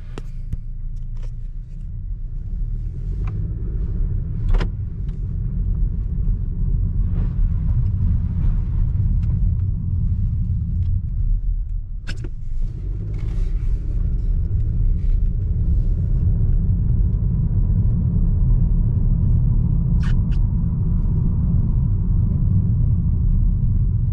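A 2018 Honda Accord LX with a 1.5L engine drives down a street, heard from inside the cabin as a steady low road and engine rumble with a few faint clicks and knocks, and no speech.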